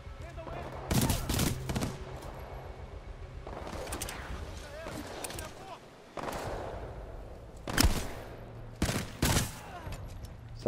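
Titanfall 2 campaign gunfire crackles in scattered sharp bursts, some rapid volleys and single shots, with a voice talking underneath between the shots.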